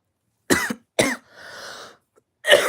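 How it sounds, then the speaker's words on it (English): A person coughs twice in sharp, close bursts, followed by a breathy exhale and one more cough at the end, with no talking in between. "I'm coughing"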